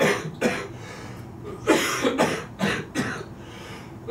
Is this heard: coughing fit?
yes